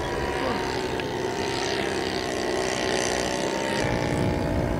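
A light aircraft engine running without a muffler drones steadily overhead as the pilot pushes the nose down into a loop, with the tone shifting slightly near the end under wind noise.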